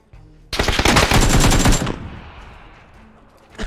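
Automatic gunfire in the PUBG video game, a loud close burst of rapid shots lasting over a second, then fading into a quieter tail, with no talking.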